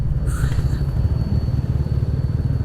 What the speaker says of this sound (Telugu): చాలామంది బైక్ వేసుకుని వెళ్తున్నారు